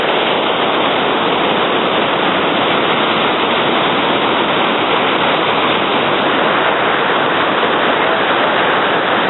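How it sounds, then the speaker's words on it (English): The Lech waterfall roars in a loud, dense, unbroken wash of rushing water close by, steady throughout with no other sounds standing out. "This is the Lech waterfall."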